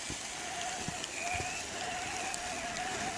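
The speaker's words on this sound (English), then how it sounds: "even though it's raining, it's still a beautiful day out." Rain patters steadily as a hiss during a trail run with remote-controlled Axial crawler trucks, joined by a faint continuous whine, scattered soft thuds and one or two sharper knocks.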